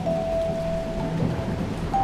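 Heavy rain pours steadily on a dark night at the edge of a town, with deep thunder rumbling low beneath the constant hiss and a faint tone running through it.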